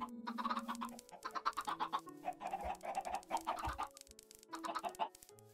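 Chickens in the video game Minecraft cluck repeatedly in short bursts of clipped notes, fairly close and clear, with no talk.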